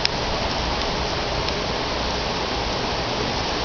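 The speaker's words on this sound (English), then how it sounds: "Because that wind's going to be blowing the rain in." Rain from a summer thunderstorm pours steadily, a dense, even hiss of falling water that stays constant throughout with no talk or thunder standing out.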